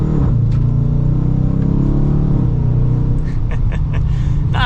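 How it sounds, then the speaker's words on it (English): A 2023 Dodge Challenger R/T V8 pulls away with a loud, steady low engine rumble that climbs in pitch as it accelerates, then settles and rises again, heard from inside the car with no talking. "you get that awesome V8 soundtrack"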